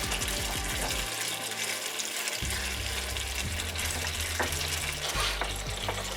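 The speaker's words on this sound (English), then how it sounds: "you have to keep stirring it because it can go and stick onto the vessel" Palm sugar melting into a watery syrup is stirred in a cooking vessel on the stove, giving a steady bubbling sizzle with scraping and sloshing strokes, close up and continuous, no voices.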